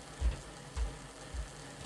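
A Rapido Hunslet model locomotive runs forward with a slight wheel wobble and its quartering a little out. It gives quiet, low mechanical thumps about every half second, with a faint ratcheting gear whirr underneath.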